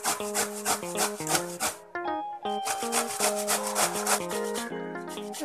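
Peeled bottle gourd is grated by hand for handvo, a steady run of rasping, scraping strokes under tonal background music, with a brief pause near the middle and no talking.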